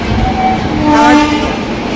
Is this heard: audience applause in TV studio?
no